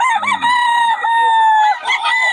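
A rooster from Batangas crows loudly and close, a single sustained call with harmonic rise and fall lasting about two seconds, standing alone without talk.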